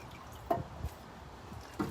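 Transmission fluid drips slowly from a lowered pan as it drains, a few faint, scattered drops landing over a quiet background with no talking.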